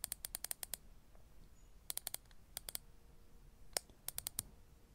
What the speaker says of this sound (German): wieder viele Mausklicks hintereinander